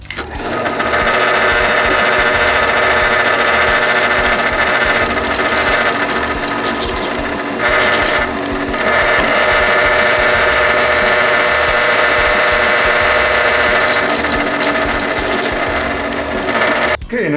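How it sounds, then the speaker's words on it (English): A power drill bores screw pilot holes into a maple board, its motor whining steadily and loudly close by for the whole stretch, with one brief dip partway through. "now we're going to drill our pilot holes for our screws"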